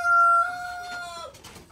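Garden hens, just brought home after treatment for illness and lice, are heard with a rooster. A sustained, tonal crow opens close and loud, then trails into softer clucking.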